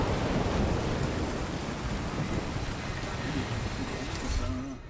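Steady, dense rain hiss from The Division 2 on PC fills the scene, loud and continuous with low rumbling underneath, fading slightly at the end.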